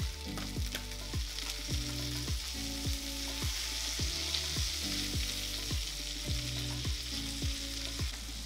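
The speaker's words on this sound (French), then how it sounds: "Laissez cuire 1 à 2 minutes afin que le magret soit bien coloré" Wild duck breast sears in a hot pan, giving a steady, loud sizzle with a constant low rumble and regularly repeating low thumps throughout.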